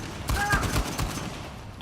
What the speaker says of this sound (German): Das war gutes, zuverlässiges Gewehr, muss ich sagen